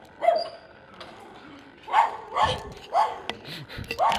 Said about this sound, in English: that's the most annoying dog I've ever met